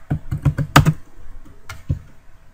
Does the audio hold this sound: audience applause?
no